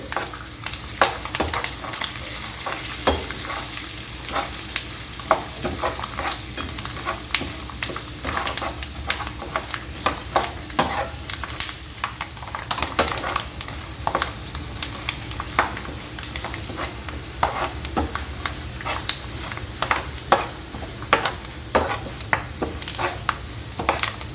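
Dried red chillies and curry leaves crackle in hot oil for avalakki puliyogare, dense popping spits and steady sizzle close up, with occasional stirring and pan clinks.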